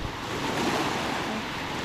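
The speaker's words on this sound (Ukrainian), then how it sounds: "Наше море." Sea waves wash onto the shore in a steady, broad roar, close and fairly loud with no voices over them.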